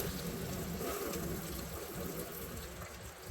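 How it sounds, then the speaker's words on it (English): Water draining out of a home well pressure tank's lines, a faint, steady broadband gushing hiss that holds evenly for several seconds with no talking. "This is the water coming out of the pressure tank."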